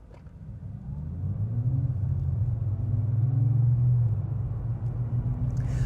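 Synthetic engine sound from a 2025 BMW M5 hybrid driving in electric mode: a steady low droning rumble that swells gradually and slightly rises in pitch, like an engine under light throttle, heard from inside the car.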